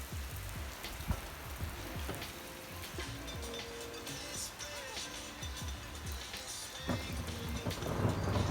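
Rain falls outdoors in a steady, dense patter across the whole stretch, with occasional louder drops near the microphone and faint voices underneath.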